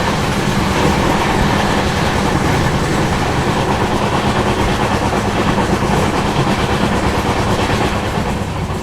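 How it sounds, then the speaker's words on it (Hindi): The Adilabad Tirupati Krishna Express rushes past close by on broad-gauge track, a loud, continuous roar of wheels with rhythmic clickety-clack that holds steady throughout. "this is the Adilabad Tirupati Krishna Express"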